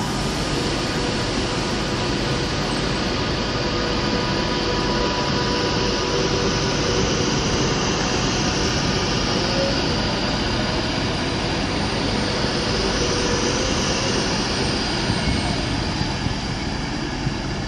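A Virgin Trains Pendolino pulls out of Birmingham International station, a steady loud rumbling roar that holds through the whole stretch with a faint high whine on top.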